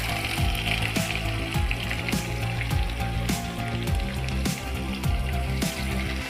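Onions frying in hot oil with whole spices such as cardamom, cloves and cinnamon, making a loud continuous sizzle up close, broken by frequent sharp clinks of stirring.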